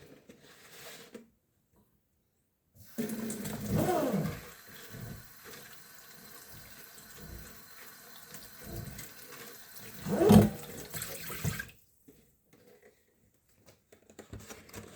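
Water poured over gardening seed pellets as they soak and swell like sponges, heard as soft trickling and pattering bursts with a louder splash near the middle, set between quiet gaps.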